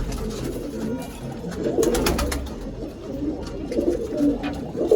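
Domestic pigeons of fancy breeds in a loft give low, repeated throaty coos that swell and fade over a steady background murmur, with no speech.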